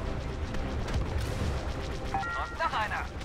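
Blaster gunfire and explosions in the video game Star Wars Battlefront 2 crackle and boom in dense bursts, with a voice speaking over the battle near the end.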